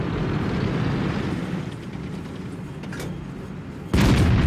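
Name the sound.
tank cannon shot in a video game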